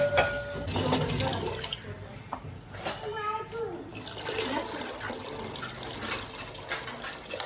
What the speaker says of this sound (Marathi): गरम करून पाणी यामध्ये टाकलं